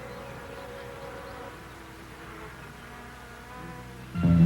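Soft, steady buzzing of insects in flight, fairly faint and continuous, with a brief louder low thump near the end.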